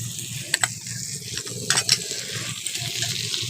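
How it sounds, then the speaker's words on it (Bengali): Potatoes frying with ginger paste in a pan give a steady low sizzle, with a few sharp clinks of a utensil against the pan near the start and middle. "আদা বাটাটা আলুর সঙ্গে কষে নিচ্ছি"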